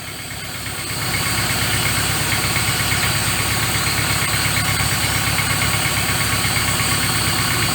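Car engine idling after an adjustment of its carburetor's mixture screw, a loud steady close-up rumble with a fast even pulsing beat that settles in after a softer first second.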